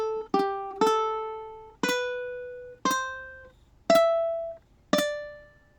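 Six plucked ukulele notes sound one after another at an unhurried pace, each ringing briefly and fading before the next, clean and close.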